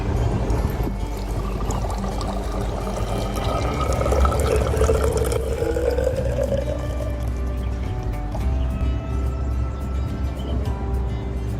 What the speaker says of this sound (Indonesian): Keran pada ombrometer dibuka, kemudian air yang tertampung pada gelas ukur dibaca skala curah hujannya.